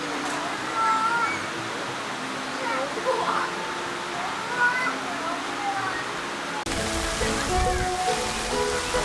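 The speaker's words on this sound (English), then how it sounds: "They love water fountains here in China." Water splashes and rushes continuously from a large nearby fountain at Chimelong Ocean Kingdom theme park in Zhuhai, China, with children's voices and chatter mixed over the steady spray.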